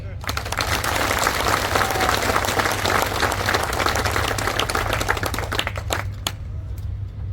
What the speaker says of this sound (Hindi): मैंने पहले भी कहा था मुझे शाडोरा की ताली चाहिए।